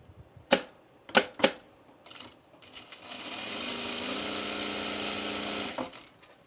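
A few sharp clicks and knocks are followed by a sewing machine whirring steadily for about three seconds as it runs a gathering stitch on a dress, then stopping with a soft clunk.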